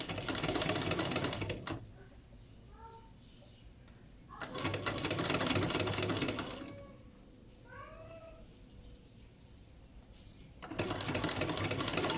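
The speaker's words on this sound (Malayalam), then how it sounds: "സൈഡിലേക്ക് ആ മടക്കുന്ന സൈഡിലേക്ക് ഇതുപോലെ സ്റ്റിച്ച് ചെയ്യണം" Sewing machine stitching along a folded fabric edge, running in three loud whirring bursts with quiet gaps between them, and a cat meowing faintly several times during the pauses.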